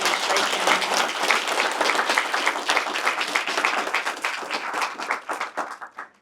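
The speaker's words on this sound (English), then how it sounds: "Can we give a round of applause for our team" Audience at a county commissioners' public event claps enthusiastically, crisp individual claps loud and close at first, then thinning out and dying away toward the end.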